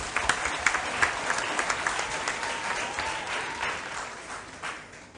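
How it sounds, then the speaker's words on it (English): Audience applause fills a quiz championship hall for the competing contestants, steady dense clapping throughout with a few sharper claps standing out, close and loud, fading only slightly toward the end. "Ladies and gentlemen, a round of applause to motivate the contestants."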